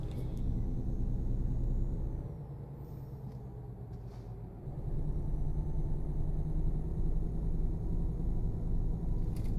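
A Volvo truck engine drones in a steady low rumble while driving a lap of a race track in a trucking simulator game, dipping briefly in load before resuming a constant hum.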